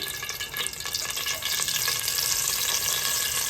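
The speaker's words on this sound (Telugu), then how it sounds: "నూనె బాగా వేడెక్కిన తర్వాత ఫస్ట్ కరివేపాకు వేసుకోవాలండి" Curry leaves hit very hot oil for country chicken curry, setting off a steady, bright sizzle and crackle that runs the whole time without any talk.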